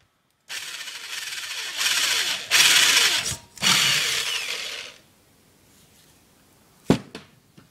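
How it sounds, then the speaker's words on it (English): A power drill bores a bolt hole through a spinning plinking rifle target clamped in a vise, loud high-pitched whirring in several bursts over about four seconds, then a pause and a sharp clank near the end. "So I'm going to put this in the vise and drill a hole big enough for that one of those bolts to go through."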